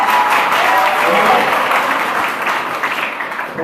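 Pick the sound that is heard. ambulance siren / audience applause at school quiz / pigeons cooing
audience applause at school quiz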